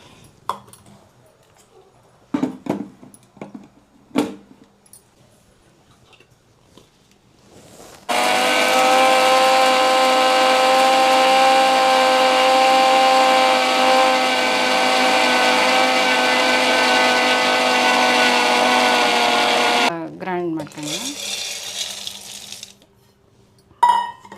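A mixer grinder roars loudly for about twelve seconds grinding roasted chickpeas, a steady high whine, preceded and followed by scattered knocks and clatter.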